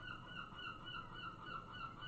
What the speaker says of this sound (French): on va laisser passer les goélands